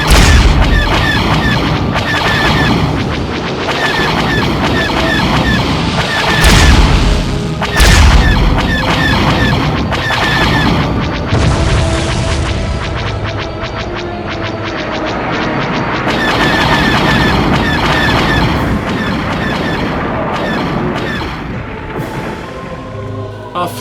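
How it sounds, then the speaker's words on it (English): Time torpedoes firing and exploding in a Doctor Who audio drama space battle, a dense, continuous barrage of loud booms, crashes and rumbling blasts layered with sci-fi effects, with no pauses throughout. "Weapons primed. Time torpedoes armed. Fire!"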